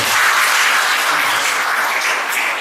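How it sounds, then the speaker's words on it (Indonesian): Dense applause from a large crowd at a village officials' swearing-in ceremony in Indonesia, steady and loud throughout with no voices over it. "Tepuk tangan buat Tegalrejo."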